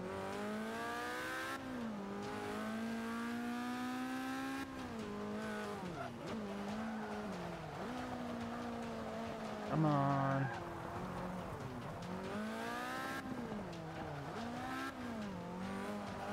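A car in the Forza racing game slides with sustained tire squeal and a wavering engine drone, steady and loud, while a player briefly mutters.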